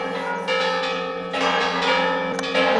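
The bells of Zamora Cathedral ring steadily for Easter, with several overlapping strikes and a long shimmering resonance, heard from a moderate distance with no voices.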